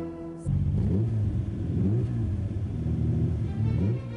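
A 1966 Ferrari 330 GT's 4-litre V12 engine starts up and revs several times, its pitch climbing and falling in rhythmic bursts, close and fairly loud.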